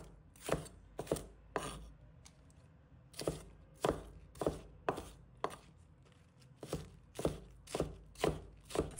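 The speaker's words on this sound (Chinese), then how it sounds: "接下来我们准备适量的大白菜，把它切成小段" A knife chops napa cabbage into strips on a board, a series of close, crisp thuds in short bursts of two or three with brief pauses between.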